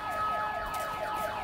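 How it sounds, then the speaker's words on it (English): An alarm going off at Weston-super-Mare, a steady repeating rising-and-falling electronic siren-like wail that sounds loud and continuous throughout, with no talking over it. "The alarm."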